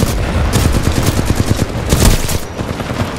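A heavy-recoil gun fires in the video game Titanfall 2, a loud, rapid burst of shots cracking continuously for about three seconds with a dense rumbling blast underneath.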